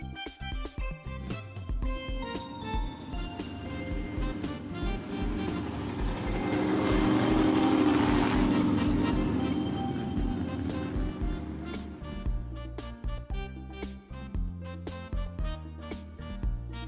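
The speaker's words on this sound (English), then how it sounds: "Sports car." A sports car engine drones steadily across the whole stretch, swelling louder in the middle as if drawing close, then easing off again, with no voices over it.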